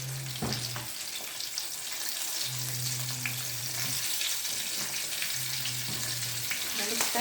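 Chicken pieces fry in hot oil with a steady, crackling sizzle close by, broken by short low hums and a few clinks, no clear talking.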